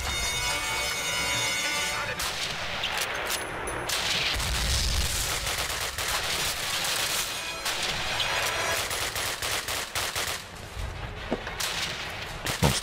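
Repeated gunshots and bursts of fire in a Call of Duty railway yard mission, sharp cracks scattered over a steady loud battle din, with several distinct snaps near the end.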